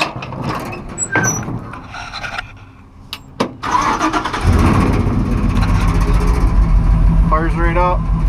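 An LS-swapped 1955 Chevy truck engine cranks and fires on a cold day, settling into a loud, steady near idle rumble after a few seconds of voices and background noise.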